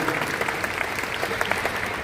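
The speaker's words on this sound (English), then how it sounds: "Give all 3 of them a warm round of applause" Steady applause from a crowd at a basketball coach's introductory press conference, dense and continuous, filling the whole moment without a break.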